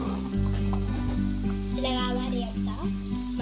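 Gongura leaves fry and get stirred with garlic in a pan, a continuous crackling sizzle under a steady low hum, close and fairly loud, with occasional stirring scrapes and no talk.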